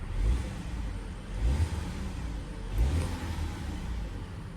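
A 2025 VW Atlas Cross Sport SEL R-Line AWD in eco mode accelerates in a few mild, moderate surges, with a steady mid-pitched engine hum and a soft whir between the pushes.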